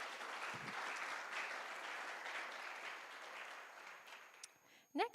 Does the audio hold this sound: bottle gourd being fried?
no